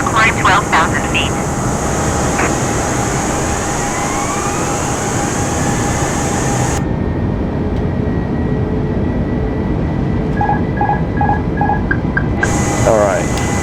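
Airbus jet engines roar steadily through a climb in a flight simulator game, a loud broad drone that cuts out briefly midway, leaving faint beeping tones before returning.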